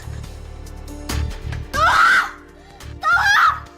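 A woman screams twice in sharp, loud bursts, with short sobbing breaths and muffled sounds between them, heard close up in a tense scene.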